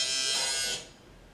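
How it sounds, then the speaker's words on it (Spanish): An electric shaver buzzes in a household setting with a loud, steady high-pitched whir that lasts under a second, then switches off and fades into quiet. "así suena una afeitadora eléctrica"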